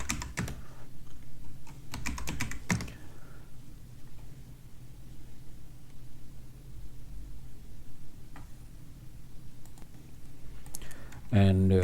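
Keys clatter on a computer keyboard as terminal commands are entered, first in quick bursts of close, crisp clicks, then with sparse single taps and a brief flurry at the end over a faint background hum.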